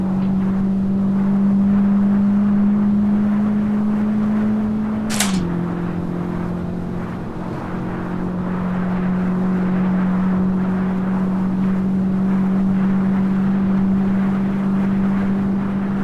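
Honda Civic Type R engine in the racing game Assetto Corsa, a steady loud drone held at high revs for the whole stretch, with one brief sharp click and a slight dip in pitch early on.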